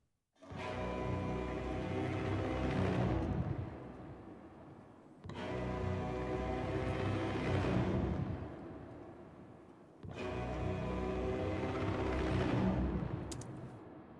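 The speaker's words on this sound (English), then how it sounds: "the deep strings and Anton strings and his hurdy-gurdy sounds like this" Deep strings, Anton strings and a hurdy-gurdy play together in three long, swelling sustained chords, each starting abruptly, holding thick and full, then fading before the next.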